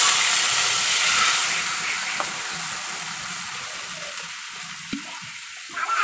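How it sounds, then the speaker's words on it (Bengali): Poppy seed paste hits a hot pan with black cumin, setting off a loud, steady frying sizzle and steam hiss that eases slightly, with a couple of brief clicks near the end; no talking. "এইবার পোস্ত বাটাটা দিয়ে দেবো, পরিমাণ মতো যে যেমন খাবেন তেমন দেবেন।"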